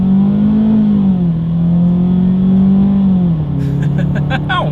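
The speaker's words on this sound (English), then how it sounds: "let's see how quickly our 2-liter inline 4-cylinder engine here in the EcoSport can get us up to speed" A Ford EcoSport's 2-liter inline four-cylinder engine drones loudly from inside the cabin as it accelerates, its pitch rising, then dropping at a shift before climbing again.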